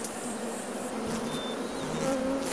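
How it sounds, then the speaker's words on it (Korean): Honeybees buzz steadily around a hive in the Jirisan mountains, a dense, continuous hum of many wings with faint high whines drifting over it. "여름 내내 지리산을 누비며 여름 농사 잘 지었던 꿀벌들입니다."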